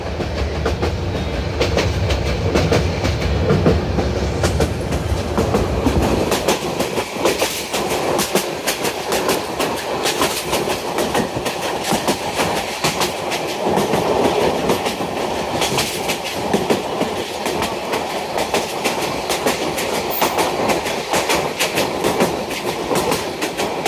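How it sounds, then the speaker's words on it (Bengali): Kishoreganj Express passenger train running on rails between Bajitpur and Kuliarchar, a steady loud rumble with clickety-clack of wheels continuing throughout, heard from onboard with no talk. "বাজিতপুর ছাড়ার পর আমাদের ট্রেনের গতি দেখতে পাচ্ছেন"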